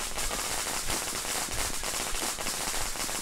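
Firecrackers go off in the horror game Shadow Corridor as a dense run of rapid crackling pops that continues steadily, with no speech.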